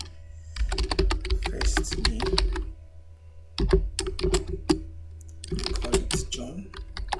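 Rapid clicking keystrokes on a computer keyboard come in bursts with short pauses between them, close and clear, while a person speaks over part of the typing.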